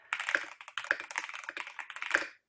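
Brisk typing on a Razer BlackWidow V4 Phantom White Edition mechanical keyboard: a quick run of close, crisp key clicks in uneven bursts, heard alone without talk.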